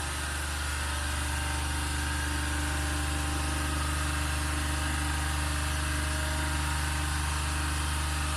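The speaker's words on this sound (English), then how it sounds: "Now you see the induction motor is running under motoring region around 1500 rpm." A 415-volt induction motor runs steadily at its rated speed of about 1500 rpm in a lab, giving a constant, loud electrical hum with a steady tonal whine that persists unchanged throughout, with no talking.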